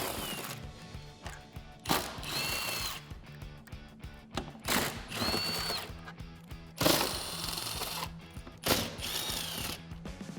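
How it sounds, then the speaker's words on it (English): Impact wrench with a deep socket spinning off the tire carrier bolts on a Jeep Wrangler JL, in several loud rattling bursts of about a second each, separated by short pauses. "I'm using a deep socket with my impact wrench just to give myself a little bit of room"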